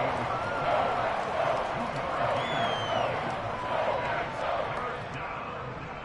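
A football stadium crowd during a game against the Saints sends up a steady, dense roar of cheering, building ahead of a big third down and holding at the same level throughout with a slight dip at the end.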